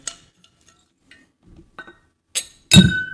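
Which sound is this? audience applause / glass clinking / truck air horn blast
glass clinking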